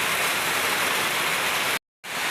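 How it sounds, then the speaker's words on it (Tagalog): Steady, dense hiss of rain falling on a surface, fairly loud and continuous, cutting out briefly near the end before resuming. "Umuulan ngayon"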